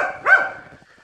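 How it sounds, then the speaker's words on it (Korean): A dog barks at a rural mountain homestead in Gangwon Province, South Korea: one fairly close, sharp bark followed by a short fading tail, with no talk. "강아지가 계속적으로 멍멍하고 있습니다."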